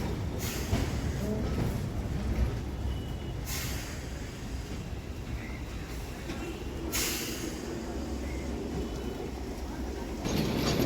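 Kolkata's route 25 tram, bound for Gariahat, pulls away on city tracks with a steady rumbling roll and a few sharp hissing bursts, while a person talks over it.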